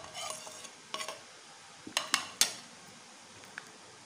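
Green chicken tikka marinade being mixed in a bowl, heard as a few soft, quiet clinks and scrapes of a spoon against the bowl, spaced irregularly over a few seconds with no talking.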